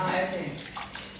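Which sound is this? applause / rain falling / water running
water running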